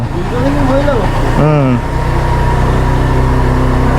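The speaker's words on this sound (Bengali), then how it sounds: "এই প্রথম স্কুটি এর আবার গিয়ার নাই শুধু টানলেই চলবে" A Lifan T-13 150cc gearless scooter runs underneath, its steady engine drone continuing beneath a voice talking loudly over it throughout.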